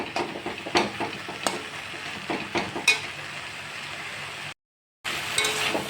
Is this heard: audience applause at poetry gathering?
no